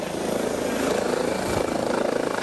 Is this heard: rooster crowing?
no